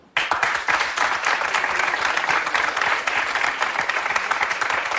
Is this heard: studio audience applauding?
yes